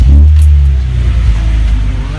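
A BMW E46 330Ci cranks over during a battery test, giving a loud, close, low rumbling engine drone that starts strongly and then holds steady for a couple of seconds.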